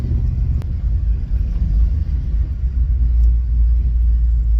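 An LS-swapped G-body car idles with a deep, steady low rumble close by, broken by a faint uneven stumble from a slight misfire and one sharp click early on, with no talking.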